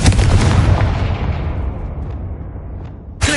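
A loud fiery spell explosion in Hogwarts Legacy, a heavy booming blast at the start that rumbles and decays over a few seconds, followed by a short sharp burst at the end.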